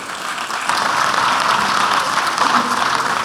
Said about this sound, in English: Does he deserve a hand clap for that?